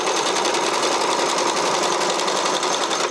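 Sewing machine running steadily through a zigzag stitch while attaching narrow elastic at a garment waistline, a close, continuous mechanical whir with no pauses and no talking.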